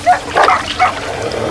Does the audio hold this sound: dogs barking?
yes